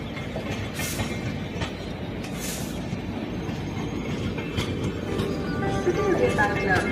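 A train rumbles and rattles steadily as it pulls away, with faint metallic squeals and a voice talking under the noise.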